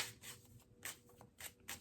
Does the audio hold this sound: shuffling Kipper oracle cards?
yes